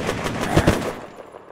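A gunshot in the survival video game Unturned, a short loud burst of rapid fire fading quickly into a brief tail.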